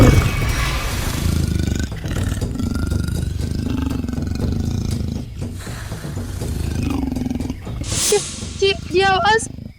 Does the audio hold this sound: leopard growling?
yes